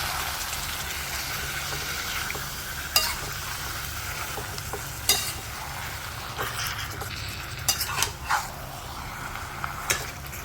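Chicken curry in a pan on low flame being stirred after red chili sauce is added, a steady soft sizzle with scraping spoon strokes and a few sharp clinks, fairly close.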